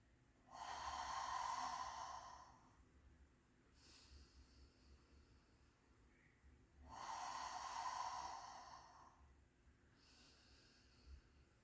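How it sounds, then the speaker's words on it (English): Two long, audible inhales through the nose, each followed by a softer exhale, come slowly and close during a crab position breathing exercise. "we're going to breathe in through our nose"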